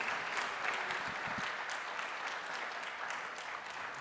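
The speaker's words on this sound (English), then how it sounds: "Please give a round of applause to our host" Audience applause welcoming the host at a public broadcasting livestream event: even, steady clapping from a crowd, fairly faint and distant, continuing without speech.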